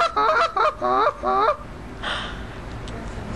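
Goose call imitating geese, played as a longer, higher-pitched version: four quick honking notes close and loud, the first broken into a double honk, then a faint breathy tail.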